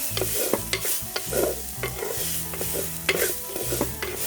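Crushed ingredients sautéing in a pan, a bright sizzle broken by frequent rhythmic spatula knocks and scrapes, close and busy, with no talking.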